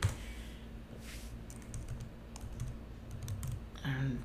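Computer keyboard typing a traceroute command, scattered soft key clicks in short bursts at moderate distance, faint and intermittent, with a voice briefly present near the end.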